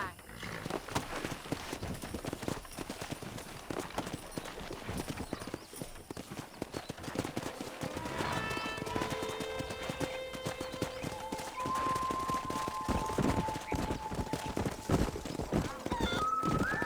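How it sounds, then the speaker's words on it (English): Wild horses in Red Dead Redemption on PS5, a steady drumming of hooves galloping close by with occasional whinnies, under continuous dialogue and light game music. "That ranch hand said there's a pack of wild horses nearby."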